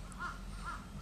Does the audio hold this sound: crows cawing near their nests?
yes